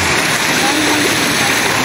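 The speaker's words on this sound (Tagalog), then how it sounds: "Tubig." Loud, steady rush of a waterfall up close, a dense continuous roar of falling, flowing water filling the whole moment, with a person talking faintly beneath it.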